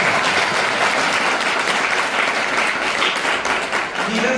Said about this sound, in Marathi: MBBS झालेला आहे, टाळ्या वाजवतात.